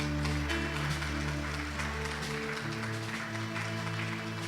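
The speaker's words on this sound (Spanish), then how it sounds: "Aplauda al Señor." A church congregation applauds during a Spanish-language sermon, with steady clapping over sustained organ or keyboard chords that change partway through.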